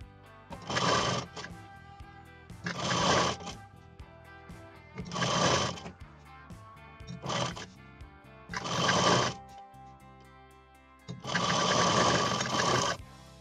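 A sewing machine stitches blouse fabric in six separate bursts of rapid mechanical whirring, each lasting one to two seconds with short pauses between, the last run longest.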